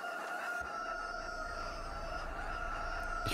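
A rooster crows in the Farming Simulator 22 (Landwirtschafts-Simulator 22) farm game, a drawn-out tonal call that sits over a steady background bed and carries on at a moderate level.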